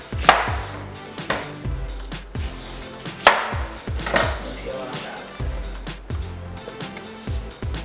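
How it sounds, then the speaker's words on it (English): A knife slicing an onion thinly on a cutting board in a home kitchen, steady rhythmic chops landing close and clear, with low background hum between cuts. "you want to cut your onion like really thin so it can be like strings"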